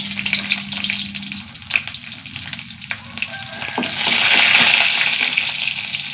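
Urad dal frying in hot sesame oil gives a steady sizzle with a few stir clinks, swelling into a brighter, louder crackle in the last seconds.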